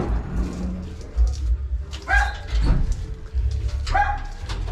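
A small puppy indoors gives a few short high yips and soft whimpers in irregular bursts, close by, amid handling noises and low background rumble.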